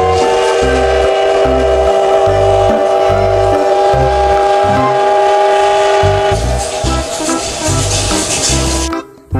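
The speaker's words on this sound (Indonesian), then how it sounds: "Yang ini ada kereta Thomas." A toy Thomas train sounding loudly and close, a sustained whistle-like horn tone over a rhythmic chugging pulse that runs steadily before cutting off near the end.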